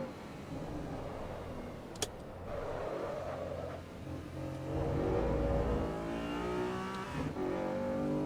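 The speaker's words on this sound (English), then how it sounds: "As I miss shift, that's the first one in the video." Engine revving through a missed gear shift in the Assetto Corsa Evo racing game at Brands Hatch, a steady loud engine drone that rises and surges with a sharp click near the start, with no talk.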